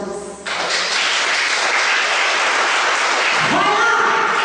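A church congregation breaks into loud, sustained applause that rises abruptly and holds as a dense, even wash of clapping for several seconds.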